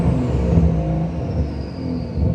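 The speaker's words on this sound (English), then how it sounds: "It just obviously doesn't do it when you're in neutral. Get a couple more revs." A tuned BMW B58 inline-six with an MHD tune revs in neutral in sport mode, its loud, close engine note rising and falling through a couple of throttle blips.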